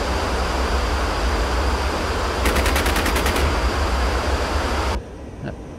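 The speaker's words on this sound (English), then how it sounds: "So you've got six 50 caliber machine guns on the front there, and then it will just give the trigger a quick squeeze" Six .50 caliber machine guns on an F-86 Sabre in the DCS flight simulator fire a loud, rapid burst of about a second over steady jet engine roar, which then cuts off abruptly.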